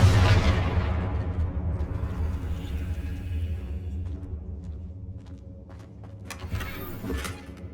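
A Confringo blasting-curse explosion from the game Hogwarts Legacy opens with a loud, broad boom that slowly decays into a long, deep rumble. Scattered small clicks follow, and a brief crackling burst comes near the end, with no voices.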